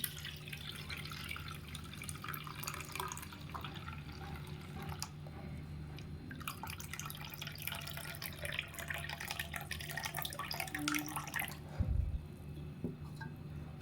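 Dyed cloth is washed in water, giving a steady run of dripping and splashing water close by, a faucet-like flow throughout with a brief louder splash near the end, and no voices.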